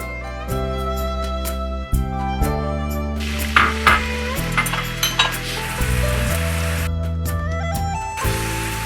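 Minced garlic sizzles as it is stir-fried in a wok for a clear-broth beef offal hotpot, a bright continuous hiss broken by scraping and clinking of the spatula against the pan, close and loud.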